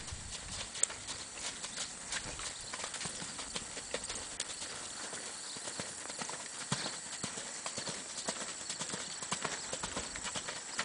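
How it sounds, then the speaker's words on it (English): Hooves of a sorrel ranch mule cantering along an arena rail, a steady three-beat clip-clop that continues evenly throughout at moderate distance, with a faint background hiss. "Let's ask for a canter this direction."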